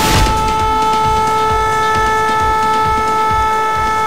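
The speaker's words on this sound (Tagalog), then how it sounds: "pinapatunog na ang sirena" Flood warning siren sounding at the Marikina River during alert level 4 high water, a loud steady sustained wail with stable tones, continuous throughout without talk.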